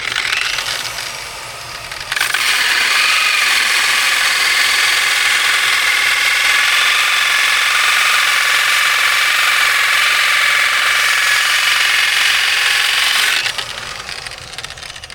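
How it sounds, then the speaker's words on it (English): A grinder fitted with 80 grit sandpaper scrapes a quarter midget tire, a loud continuous harsh abrasive roar that holds steady for about eleven seconds before easing off. "So then I'm gonna take our grinder with 80 grit sandpaper."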